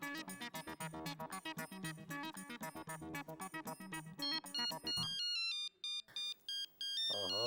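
An electronic telephone ringtone plays a loud, repeating melodic pattern of quick beeping notes, continuing without pause and then switching to sparser, higher tones.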